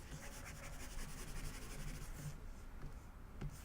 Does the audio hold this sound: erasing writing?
yes